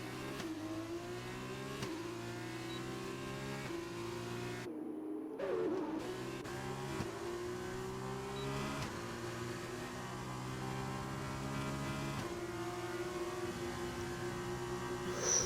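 F1 race car engines in an Xbox racing game at Abu Dhabi, several cars droning and shifting pitch steadily at high revs, with rising and falling engine tones throughout and a brief dropout midway.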